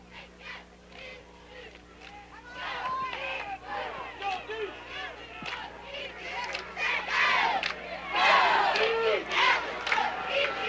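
A home crowd at a 1987 high school football game between Manhattan and Great Bend yells and cheers from the stands, the shouts rising and swelling in waves and growing loudest near the end, with a voice audible now and then.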